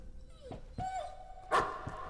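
A dog barks and yips in the horror video game Layers of Fear, three or four short, sharp calls spread out over a couple of seconds, fairly close, with some quiet game ambience between them.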